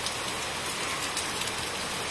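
Heavy rain falling in a steady, dense hiss of drops striking surfaces, continuous and loud throughout with no voices.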